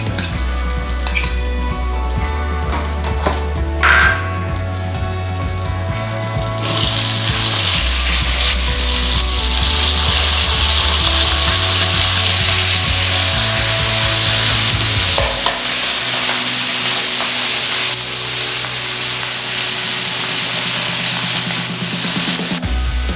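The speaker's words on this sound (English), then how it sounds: "Then you add garlic and dry chili pepper." Garlic and dry chili pepper stir-fried in oil in a pan, with steady loud sizzling and repeated scraping strokes of a utensil against the pan, no voices.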